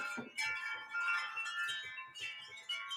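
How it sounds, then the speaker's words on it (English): Wind chimes ring outdoors, their overlapping metallic tones sustaining and shimmering with fresh strikes every second or so, close and fairly loud. "I'm sorry about my wind chimes"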